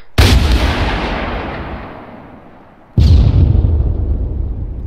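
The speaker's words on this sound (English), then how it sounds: "Rocket. Clear back blast. Rocket." Two heavy rocket launches in the military shooter Arma 3, each a sudden loud boom with a long rumbling tail that fades over a couple of seconds, the second following about three seconds after the first.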